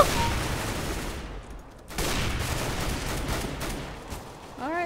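Gunfire rattles through a Counter-Strike: Global Offensive match, a dense, noisy spray of shots that briefly thins out before resuming steady and loud, with no voices over it.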